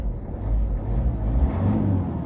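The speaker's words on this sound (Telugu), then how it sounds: "సో డీజిల్ బండి ఇది. స్టార్ట్ చేస్తున్నా." A 2017 Honda Jazz diesel with 125,000 km cranks and catches, settling into a low, steady close-up engine rumble.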